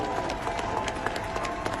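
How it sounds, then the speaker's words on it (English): A crowd at an outdoor walk and run event applauds, a dense patter of many hands clapping at moderate distance, steady throughout. "Let's give them a round of applause."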